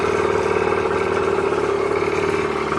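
A Suzuki DS80 80cc two-stroke dirt bike engine idling steadily, close and loud, with a continuous buzzing drone and no talk over it.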